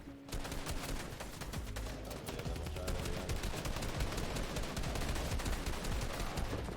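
Continuous rapid automatic gunfire in a video game, dense and steady with individual shots blurring into a loud unbroken burst throughout.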